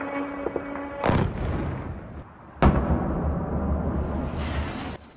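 Artillery barrage in Ukraine: two loud, close booming explosions about a second and a half apart, each followed by a long rolling rumble, with a faint whine near the end.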